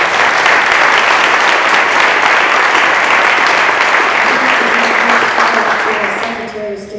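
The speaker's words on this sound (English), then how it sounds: "So let's give a round of applause to you." A press conference audience breaks into loud, sustained applause lasting several seconds, fading slightly at the end as a voice begins to speak underneath.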